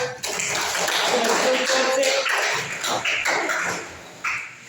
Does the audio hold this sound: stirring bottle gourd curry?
no